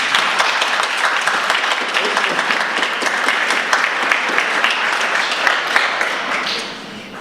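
Audience members at a university art, architecture and design faculty panel event applaud in a steady patter of hand claps that carries on for several seconds before thinning out.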